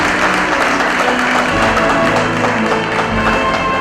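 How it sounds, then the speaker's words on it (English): An audience at a philanthropy awards night in Bengaluru applauds, a loud, even roar of many hands clapping that holds steady throughout, with faint background tones beneath. "a huge round of applause for Maya, ladies and gentlemen"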